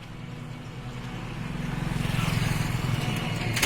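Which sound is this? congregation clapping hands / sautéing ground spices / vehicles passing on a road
vehicles passing on a road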